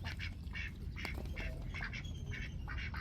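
Several domestic ducks quack in short raspy bursts, scattered and overlapping, over a steady outdoor rumble at feeding time in the morning.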